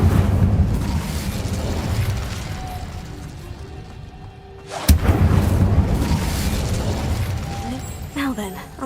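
The Incendio fire spell is cast in the video game Hogwarts Legacy, a sharp burst at the midpoint over a rumbling, whooshing bed of game sound. Speech can be heard around it.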